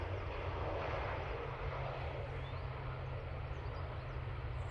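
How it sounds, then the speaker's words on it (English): An airliner lands on a runway at Manchester Airport in low visibility, heard as a steady, broad roar of engines and rushing noise at moderate distance with no distinct touchdown thump. "slam that nose onto the runway there"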